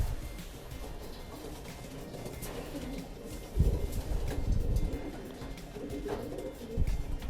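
Racing pigeons coo softly in a loft in Groși, Romania, low throaty calls repeating at irregular intervals against a quiet background, with a couple of slightly louder coos standing out.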